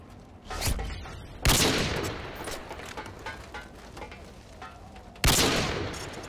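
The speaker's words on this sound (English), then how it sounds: "a short little clip of uh, a sniper, and uh, this is just a no scope kill cam" Sniper rifle shots in a video game, a few loud, sharp blasts spaced seconds apart, each followed by a rumbling echo over busy background game noise.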